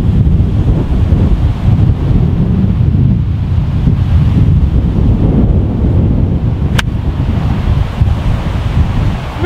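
Wind blowing across a golf course, a loud, steady roaring buffet against the microphone that barely changes, with one brief sharp click partway through and no voices.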